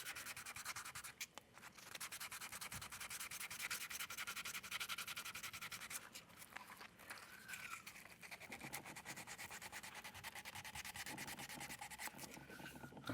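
A vinyl figure kit part sanded by hand with 240 grit sandpaper, close and faint, a continuous rhythm of quick scratchy back-and-forth strokes with brief pauses and changes in pressure.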